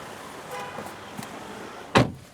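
A Renault electric rental car in Paris unlocks with a sharp, brief clunk and chirp near the end, after a quiet stretch of low street ambience.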